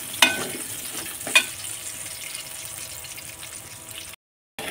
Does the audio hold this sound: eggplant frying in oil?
yes